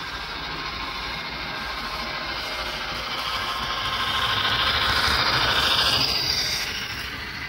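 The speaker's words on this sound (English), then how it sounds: "And the train is moving forward on main track one." A model train running on the main track of an oval layout, giving a continuous, even rumble and clatter that swells slightly louder midway, then eases.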